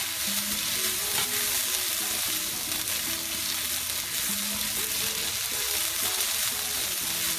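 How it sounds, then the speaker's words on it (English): Garlic sautés in a pan for a shrimp chow mein, a steady loud sizzle with repeated scraping as it is stirred around, continuous with no talking. "once you start smelling the garlic, you don't want to burn the garlic, so that's why I'm keep on moving it around"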